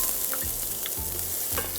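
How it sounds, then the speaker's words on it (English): Ginger and onion sizzle and fry steadily in a hot oiled pan, with a few soft stirring scrapes over the continuous crackle and no talking. "saute that around"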